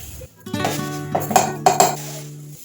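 A metal vessel clinks and rings while finger millet (ragi) is washed in it, giving several bright knocks over a sustained metallic hum that fades at the end.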